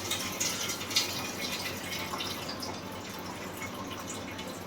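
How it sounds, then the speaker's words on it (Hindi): Water from soaked, swollen rice being poured off while cooking, a steady close trickle and splash that runs continuously with a slight surge near the start. "इधर मैं ये जो जितना भी फूल गया है ना ये चावल, इसका पानी पूरा ही छोड़ दूंगा।"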